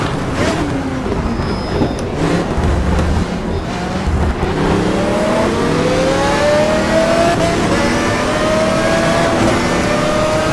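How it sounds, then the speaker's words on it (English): In GTR Evo, an Aston Martin race car's engine revs hard, its pitch climbing steadily through the gears, loud and continuous with rising and falling whine. "wringing the neck out of this Aston Martin and my Fanatic wheel"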